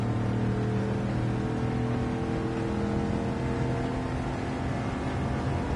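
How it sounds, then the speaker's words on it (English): Ford Mustang engine in a racing video game, a steady droning roar with layered harmonic tones held throughout, loud and continuous with no talk. "I'm jumping straight into the Mustang though"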